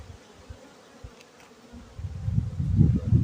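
Honeybees buzz on a hive frame during preparation for winter, with a low hum that starts faint and swells into a louder, close drone toward the end.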